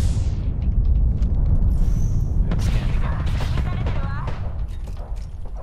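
Gunfire in the battle royale shooter Apex Legends: a heavy boom opens, then scattered sharp shots and a short burst follow amid game effects, fading slightly toward the end.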